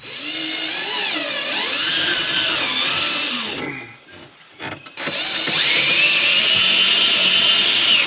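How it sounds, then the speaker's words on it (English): A power drill turning a thread-cutting tap whines steadily, its pitch wavering under load, cuts out briefly with a few clunks, then spins back up loud and constant. "Put this thing in a drill."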